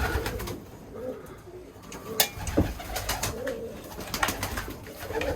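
Birmingham Roller pigeons cooing in a loft during breeding season, soft repeated low coos from several birds at close range, with rustling and some background chirps.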